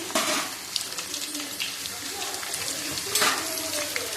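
Garlic cloves frying in hot oil for a mango pickle, giving a moderate sizzle that flares briefly near the start and again toward the end, with faint clinks of a utensil.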